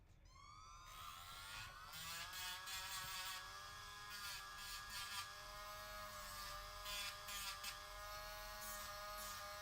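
A small electric rotary tool whines up to speed and holds a steady high buzz while shaving down a plastic action figure shoulder part, with faint grinding variations and no talking.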